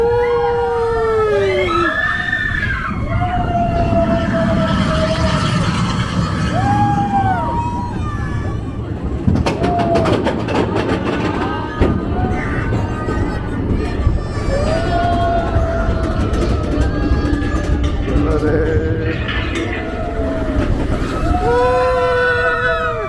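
The Seven Dwarfs Mine Train roller coaster at Magic Kingdom rumbles and clatters along its track for the whole ride, while riders scream and whoop in rising and falling shrieks and people talk nearby.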